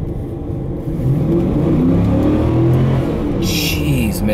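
1997 Oldsmobile Aurora 4.0L V8 sedan accelerating from about 20 mph on a test drive, with a loud in-cabin engine rising steadily in pitch as it revs up.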